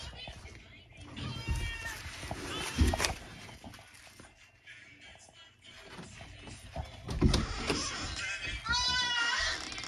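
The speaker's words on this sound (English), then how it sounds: "Is that a cat?" A cat meows a few times at moderate distance, drawn-out cries breaking through quiet shuffling and a person speaking.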